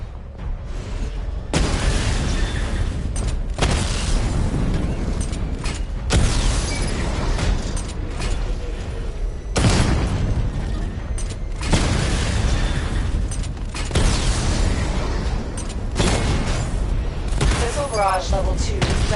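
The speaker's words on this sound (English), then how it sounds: "Charge the missile barrage to level 2 to destroy up to 4 targets at once." Repeated heavy missile barrage blasts in a Batman video game, loud booming bursts arriving in waves every few seconds over a dense, constant rumble of game noise and mechanical whirring, with a voice announcing over the top.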